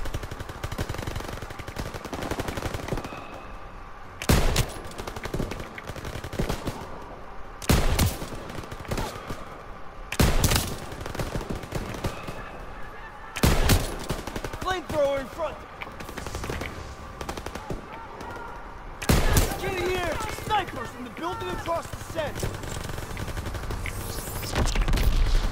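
Machine gun fire in Call of Duty WWII, repeated sharp bursts of automatic gunfire roughly every few seconds over a steady battlefield din, with faint game voices in between.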